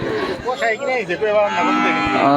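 A large cow at a village cattle market moos loudly and close by, a long, drawn-out low bellow with a short break partway through.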